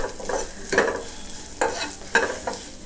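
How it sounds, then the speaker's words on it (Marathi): Vermicelli gently roasted in ghee for kheer is stirred in a pan, with about four distinct scraping strokes spaced unevenly, close and clear, each followed by a soft sizzle. "तर ह्या शेवयाना अलगद अगदी म्हणजे रंग बदलायचा नाही, ह्याचा परतून घ्यायच्या तुपावरती जरा"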